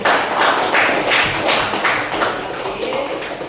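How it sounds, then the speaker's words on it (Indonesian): Classroom applause for the first student group, a steady wash of many hands clapping at close range that carries evenly for several seconds with no voices over it. "Aplaus dulu untuk kelompok 1"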